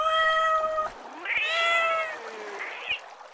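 Two long, drawn-out cat meows, loud and close, the first held steady, the second rising and falling, with a short quieter call trailing at the end.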